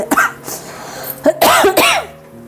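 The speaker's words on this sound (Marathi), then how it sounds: "फोडणीचा ठसका लागलाय हो मला पण" Coughing fit from tempering spice fumes while cooking amti (dal) in a home kitchen: a few short coughs, then two louder, harsher bursts close to the microphone, with no talk.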